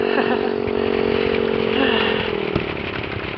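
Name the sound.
motorcycle being ridden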